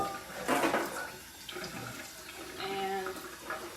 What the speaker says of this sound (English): So I have rehydrating chickpeas. So I'm just gonna get it out of the water.